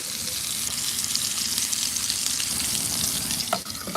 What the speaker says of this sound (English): Oh yeah, we got a nice sear.